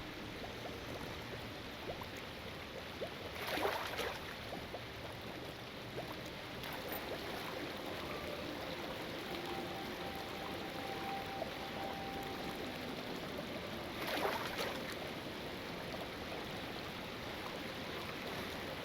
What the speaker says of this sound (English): Collecting pure water.